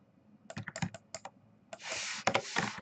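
Fingers type on a computer keyboard at a desk while working in Maya, with a scatter of separate close key clicks. A denser burst of clattering keystrokes follows, quiet and with no voice.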